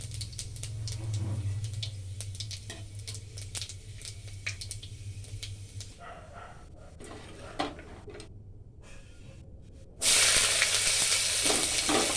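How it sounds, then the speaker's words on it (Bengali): Panch phoron and dried red chilies crackle in hot oil with a faint sizzle and sparse pops, easing off midway, then a louder hissing surge near the end; no voices. "দিয়ে দিচ্ছি এবার 5 ফোড়ন আর এই শুকনো লঙ্কা।"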